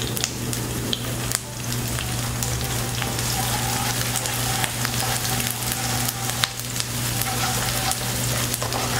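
Shallots frying in three tablespoons of salad oil in a wok, a loud continuous crackling sizzle with a few stirring scrapes, steady throughout and without talk.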